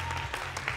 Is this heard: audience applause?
yes